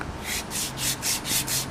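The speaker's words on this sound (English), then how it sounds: "Mostly just concerned about getting old paint sanded off so that it's, you know, relatively smooth." Hand sanding old paint off a house pipe with sandpaper, rhythmic back-and-forth rasping strokes, about six quick passes, close and fairly loud.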